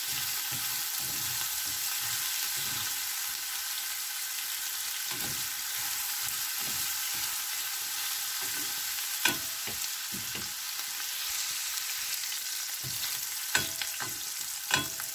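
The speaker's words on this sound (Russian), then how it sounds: "Добавляю я морковочку. перемешиваю, все у меня жарится вместе." Onion and carrot fry in a pan on a home stove, giving a steady, close sizzle broken by scraping stirs and a few sharper knocks of the utensil, with no voices.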